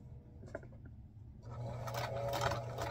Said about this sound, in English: I always backstitch when I first start and end.